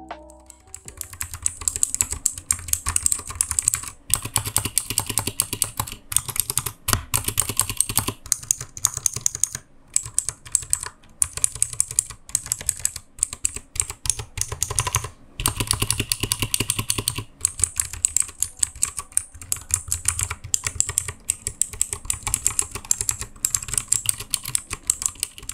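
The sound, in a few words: Dareu EK828 one-handed mechanical keyboard, blue switches, typing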